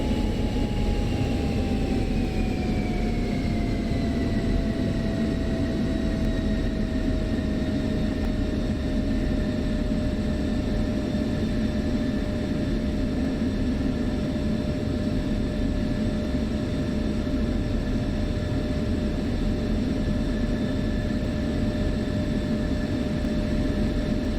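A jet aircraft's engine hums steadily while taxiing toward the runway in DCS World, with a loud constant roar and rumble and a whining tone that dips early on and then holds level for the whole stretch, with no talk.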